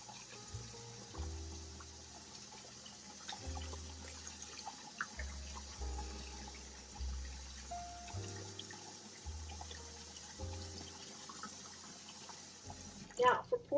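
Tap water runs steadily into a sink, a continuous splashing hiss beneath intermittent low thumps and handling noises, ending with a louder clatter.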